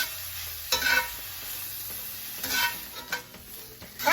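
Shaved beef and onions fry and get stirred in a pan, with a steady low sizzle broken by several louder scraping stirs; no one talks.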